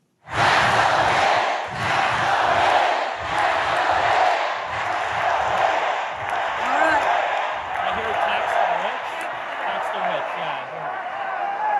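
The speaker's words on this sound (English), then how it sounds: "This is the crowd chanting at Kathy Hochul to tax the rich" A large rally crowd chants in unison at Kathy Hochul, demanding to tax the rich, with loud rhythmic shouting repeated in steady pulses, mixed with scattered cheers and claps throughout.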